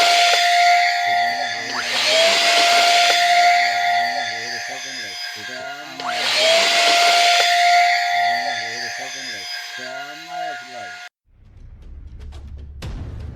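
A mini handheld vacuum cleaner for car and sofa cleaning runs with a steady airy hiss and a high motor whine for about eleven seconds, then cuts off, while someone talks over it.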